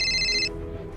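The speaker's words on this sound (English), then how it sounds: "Now I'm getting a phone call." A telephone rings with an incoming call, a bright electronic ring tone sounding clearly for about half a second before cutting off, leaving quiet room noise.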